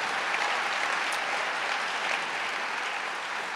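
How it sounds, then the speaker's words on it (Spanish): Church congregation applauding during a Spanish-language sermon, a dense, steady wash of many hands clapping that holds at an even level throughout with no voices on top. "Le damos un aplauso a Dios."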